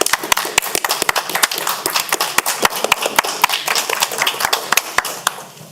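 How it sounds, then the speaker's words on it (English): Attendees at a county council meeting clap together, a dense burst of sharp hand claps that stays steady for several seconds, then thins out toward the end. "I want to stand and clap for"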